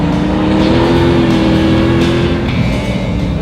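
A Flyin' Miata sports car on grippy Bridgestone track tyres is driven hard around a circuit, its engine holding a loud, sustained drone under load, then easing slightly near the end.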